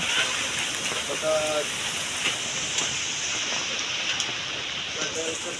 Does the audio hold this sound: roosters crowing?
no